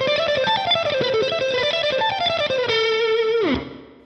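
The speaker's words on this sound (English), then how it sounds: "I'll bring our reverb in." Distorted electric guitar played through a Line 6 Helix with reverb added, a run of sustained notes and chords ending in a held note that drops away into a short reverb tail.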